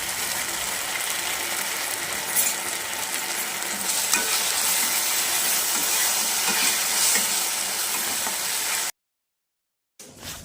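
Soya chunk manchurian with tomato sauce and soy sauce being stirred in a hot pan, a continuous loud scraping and sizzling of the spoon against the pan that cuts off briefly near the end, no voices.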